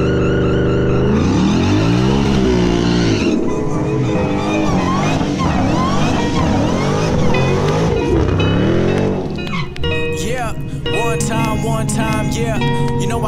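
A supercharged 2018 Ford Mustang GT with a 10-speed transmission accelerates hard, its loud engine climbing through several rising gear pulls with brief drops at shifts, then a sharper high rev near the end.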